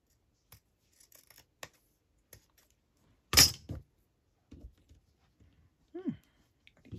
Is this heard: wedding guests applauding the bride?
no